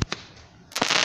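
Fourth of July fireworks burst in sharp cracks: two quick pops, a brief lull, then another crack followed by a crackling spray.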